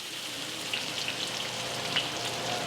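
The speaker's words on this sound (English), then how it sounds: "Garlic, onion, saute." Garlic and onion sauté in a hot pan for fried rice, giving a steady, fairly loud crackling sizzle with scattered sharp pops and spits, no voices.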